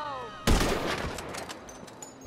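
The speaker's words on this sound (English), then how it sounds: "There's gunshots, bruv." Gunfire in Grand Theft Auto 5 Online on Xbox One: a sudden burst of shots and a loud crack at about half a second, echoing into a fading rumble, with another sharp bang at the end.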